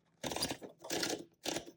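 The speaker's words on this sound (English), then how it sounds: "when you turn your platen or your roller, whatever you want to call it, you'll hear it clicking" A 1968 Super Sterling manual typewriter platen turned while paper is loaded, giving three close, crisp bursts of ratcheting clicks, each about a third to half a second long, with short pauses between.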